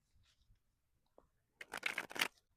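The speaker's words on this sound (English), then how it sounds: "Let's shuffle your deck and see." Deck of tarot cards being shuffled, a short quiet pause and faint handling first, then a close, crisp riffling flutter lasting under a second.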